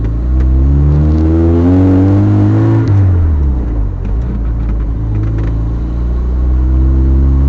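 Engine of a 1988 Chevy S10 pickup drones loudly while driving, rising and then falling in pitch with a steady rumble, an intermittent skip or misfire in its running.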